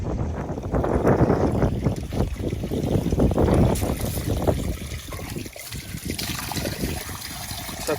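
Water rushing and gurgling through a Viessmann boiler system during a long flush, a steady loud flow with sloshing surges that eases and thins toward the end.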